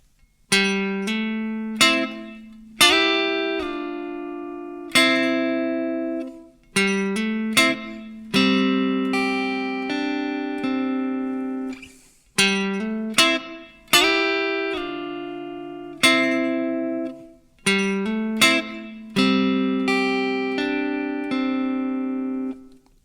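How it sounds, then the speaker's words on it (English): An electric guitar plays a slow lick of paired notes in thirds, each plucked clearly and left to ring before the next, heard alone. "Now we're going to hear the sound of thirds."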